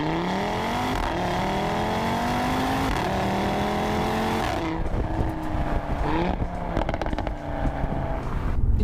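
An Audi RS3 five-cylinder engine accelerates hard with rising, rasping harmonics that climb through the gears in a few upshifts. The car is close and loud, with brief flaps and pops in the second half and no talk.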